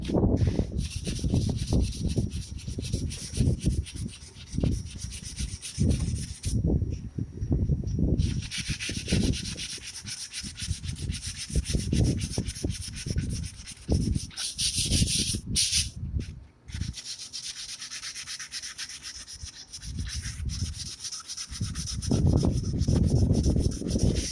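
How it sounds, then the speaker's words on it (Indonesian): Sandpaper rubbing back and forth over filler on a GRC fence in steady, repeated strokes, close by, with a brief pause partway through. "Yuk langsung saja kita amplas guys"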